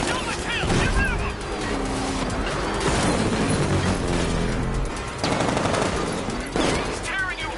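Enemy gunfire rattles in repeated loud machine-gun bursts during a vehicle pursuit in Batman: Arkham Knight, mixed with engine noise and crashes while voices shout over the action.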